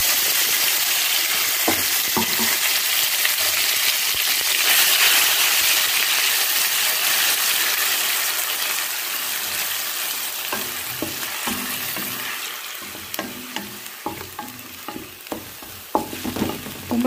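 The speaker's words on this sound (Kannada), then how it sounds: "ಇವಾಗ ಇದಕ್ಕೆ ಒಗ್ಗರಣೆ ಹಾಕ್ಕೊಳ್ಳೋಣ. ಸಾಸಿವೆ ಹಾಕ್ಕೊಂಡಿದ್ದೀನಿ ನೋಡಿ." Mustard seeds and chili being tempered in hot oil sizzle and fry steadily, with loud continuous spitting that eases midway, then sharp pops and crackles as spoon stirring clatters toward the end.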